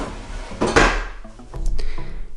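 A kitchen drawer slides and knocks shut with a wooden thud, followed by a few lighter clicks and rattles of contents, close and fairly loud, with no talking.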